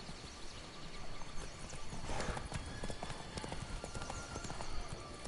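Roach the horse trots in The Witcher 3 video game, its hooves clip-clopping in a steady rhythm. Faint background ambience and a brief whinny-like swell sit under the hoofbeats.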